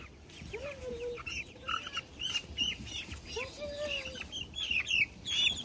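Chicks peep and chirp in high, wavering calls with soft clucking, close by, over a steady rustling background, the calls repeating throughout.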